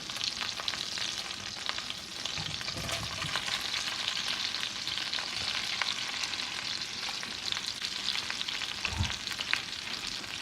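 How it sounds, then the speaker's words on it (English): Sriracha shrimp sautéing in a hot pan, a dense continuous sizzle with occasional stirring scrapes and a couple of low thumps, close and fairly loud. "all we're gonna do now is just saute"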